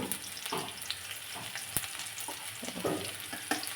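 Crushed garlic and curry leaves frying in hot oil for dal: a close, soft, continuous sizzle with scattered sharp pops and crackles.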